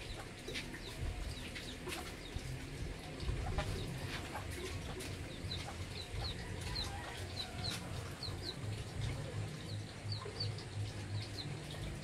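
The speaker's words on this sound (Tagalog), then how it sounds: "ang aking mahiwagang manok." Chickens cluck repeatedly in short, bright bursts over a busy outdoor farmyard background, fairly close and steady throughout.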